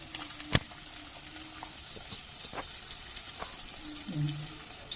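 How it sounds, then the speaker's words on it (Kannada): Onion and tomato fry in hot oil with mustard seeds and cumin for ridge gourd curry, a soft, steady sizzle close by with a single sharp tap and faint clatter. "ಚೆನ್ನಾಗಿ ಫ್ರೈ ಆಗಲಿ"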